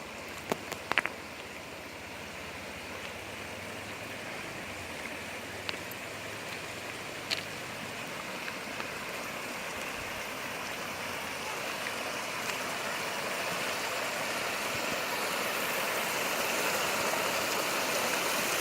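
A hot spring steam vent in Aceh Besar, a steady broadband roaring hiss like rushing water, continuous and gradually growing louder, with a few faint knocks near the start and no talk.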